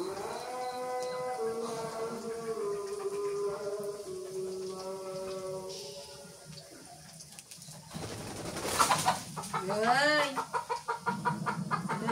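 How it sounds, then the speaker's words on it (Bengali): At dusk on a village homestead, chickens coming home give a drawn-out, wavering call followed by a burst of rising squawks and rapid clucking near the end, close by, with a person talking quietly at times. "সন্ধ্যা লেগে গেছে, মুরগি গুলো বাড়িতে এসে আজকে একটু আলো দেখছে তো"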